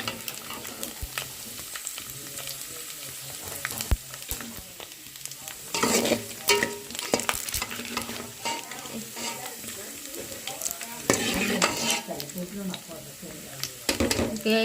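Bottle gourd pieces frying in oil in a pan, with a continuous crackling sizzle broken by louder bursts of stirring and utensil scraping, fairly close.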